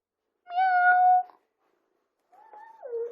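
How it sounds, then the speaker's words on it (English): A cat meows twice, a long clear meow followed after a short pause by a softer, falling one, close by with no talking. "Meow. She's meowing."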